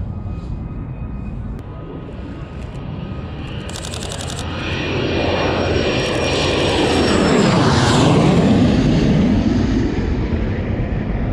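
A DC-9 jet with JT8D engines roars past at an aviation show, its loud engine noise swelling and sweeping in pitch as it passes close by, with a faint electronic beeping burst near the start.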